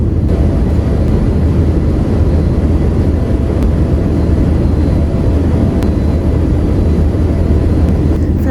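Steady, loud broadband roar of an airplane cabin in flight en route to Langkawi, Malaysia, a constant engine and airflow drone that holds evenly throughout with no speech.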